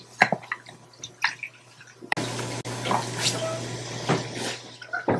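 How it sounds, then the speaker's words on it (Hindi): Dishes are washed with water at a Buddhist monastery in Japan, with running and splashing water, clinks and drips that grow louder and fuller partway through, while someone narrates over it. "प्रत्येक साधक को अपने बर्तन साफ करके रखने होते हैं।"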